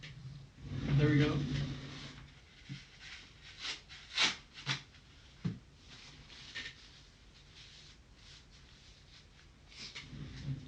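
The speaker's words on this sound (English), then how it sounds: "Just had to blow my nose there for a second." A person blows their nose indoors with a loud, rough honk early on, followed by several short, fainter sniffs and snorts, all close and otherwise quiet.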